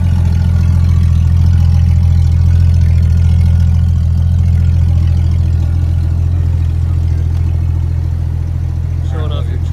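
A Hummer H3 truck's engine idles steadily and loud, a deep continuous rumble that holds unchanged throughout, heard up close outdoors in winter snow with people talking around it.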